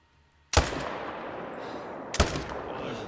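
Two loud, sharp rifle shots in theHunter: Call of the Wild, each followed by a long echoing decay rolling across open terrain, separated by about a second and a half of quiet.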